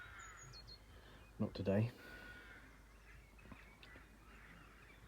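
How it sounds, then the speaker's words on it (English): Crows caw faintly in the distance on a spring evening out on a boat trip, a few thin calls against a quiet background, with a brief burst of nearby speech partway through. "You can still hear all those crows."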